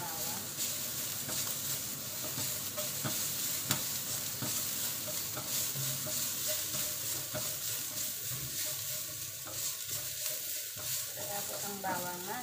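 Garlic sizzles steadily in a frying pan for a home-cooked breakfast, a dense continuous frying hiss with occasional stirring scrapes, close and fairly loud throughout.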